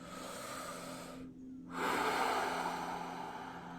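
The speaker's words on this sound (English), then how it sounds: "So we're going to start with this breathing where you inhale through the mouth." Breathing exercise with a sharp inhale through the mouth, a steady airy rush that cuts off briefly, then a louder, fuller draw of breath close to the microphone.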